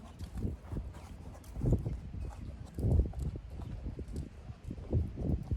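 Muffled hoofbeats thud in a steady rhythm on soft ground as a horse moves around, fairly close, with faint rustling between steps.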